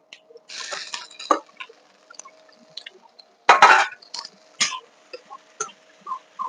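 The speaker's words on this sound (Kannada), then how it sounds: "ಈಗ ನಾನು ಟೊಮೆಟೊ ಹಾಕ್ತೇನೆ." Tomatoes tipped into a hot frying pan while cooking Mangalore-style chicken pulimunchi, giving a brief burst of sizzling and spattering, then scattered clinks and softer sizzles with short quiet gaps, close by and moderately loud.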